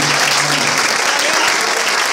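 A church congregation claps together at a youth service of Ministério Shalom Adonay, a dense, steady wash of applause lasting a couple of seconds with no voices over it.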